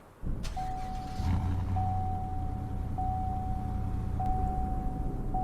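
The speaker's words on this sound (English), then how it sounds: "Here's what it sounds like starting up." A video game car, the 2015 Chevlon Calle, starts up and settles into a steady low rumble, with a thin electronic tone beeping at regular intervals over it.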